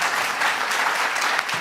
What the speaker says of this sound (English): let's give a huge round of applause to Lance and David